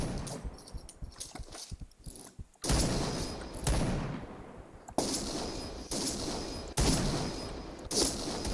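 Gunfire in the video game Point Blank, with a sniper rifle: a scatter of light shots, then several loud, sharp blasts at regular intervals, each followed by a decaying tail.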